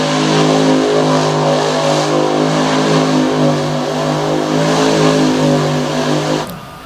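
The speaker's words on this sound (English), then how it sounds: "He's going to cut out a donut center track." A monster truck revs loud and close at a Bangor, Maine event while cutting a donut in the center of the track, the engine holding a steady roar before cutting off abruptly near the end.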